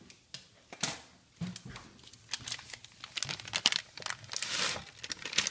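Dry, crumbly graham-cracker-style crust mix pours and rattles into a pan, with crinkly crunching and scattered taps, fairly close and moderately loud.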